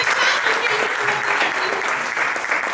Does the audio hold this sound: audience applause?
yes